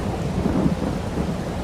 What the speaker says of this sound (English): I get out of the rain here.